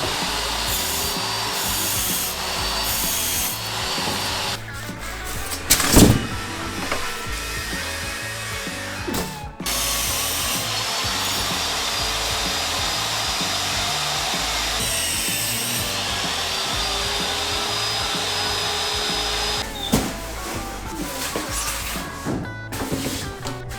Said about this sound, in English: I'll cut the styrofoam with a handmade tabletop circular saw